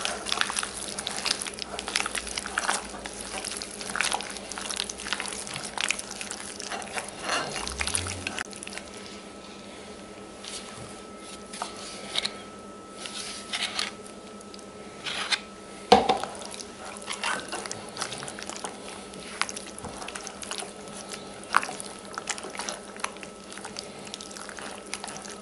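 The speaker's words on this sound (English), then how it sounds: "add some of the yogurt, and start to mix that in" Chicken for murgh dahi is mixed by gloved hand with yogurt, giving soft, wet squelching and slapping sounds that run on and off under faint background noise, with a brief clatter of a pot or utensil partway through.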